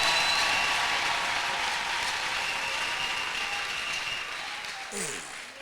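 A church congregation claps and cheers for Jesus in sustained loud applause that fills the room, slowly tapering toward the end, with voices mixed into the ovation.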